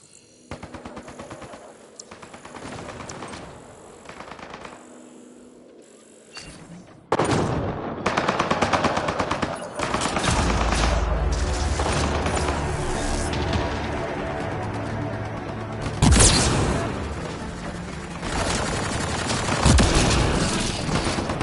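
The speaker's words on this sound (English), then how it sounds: "Turn those turrets on Merryweather's men." Turret gunfire in a PlayStation 4 video game firing on enemy soldiers: sustained loud bursts of rapid automatic fire over game sound, with sharp booming impacts, quieter at first and then relentless.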